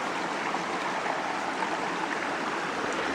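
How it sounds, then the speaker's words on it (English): A fairly big stream rushes over rocks along a hiking trail near Tumbling Run Shelter, a loud, dense, unbroken wash of water filling the whole moment with no voices. "It's a pretty big stream."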